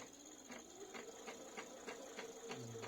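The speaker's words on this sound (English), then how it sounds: "I'm going to start sewing" Sewing machine stitching prefolded bias binding against an edge guide foot, a steady quiet mechanical whir with evenly spaced needle pulses running throughout, close and unaccompanied by talk.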